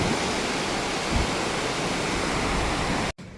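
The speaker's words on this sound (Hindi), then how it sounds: "पानी यहाँ से जा रहा है और पानी सीधा उस तरफ जाके बह रहा है" Water pours out and runs away in a steady, loud, broadband rush that holds for about three seconds before cutting off abruptly, with no voices.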